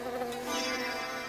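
A honeybee buzzes steadily and continuously, a close, even droning hum with no speech over it.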